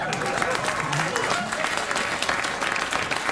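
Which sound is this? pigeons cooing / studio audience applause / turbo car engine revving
studio audience applause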